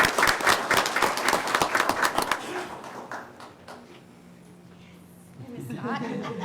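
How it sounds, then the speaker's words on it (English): Audience at a school board meeting claps in a burst of applause that fades after about two seconds, leaving quiet room noise before voices and movement return. "So a round of applause for everyone."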